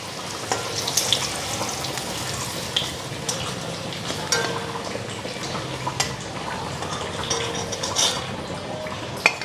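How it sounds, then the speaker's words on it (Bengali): Vegetables fry in oil in a pan, a steady sizzling hiss broken by scattered pops and the clinks and scrapes of stirring. "এখন এই যেগুলা ভাজা হইতেছে"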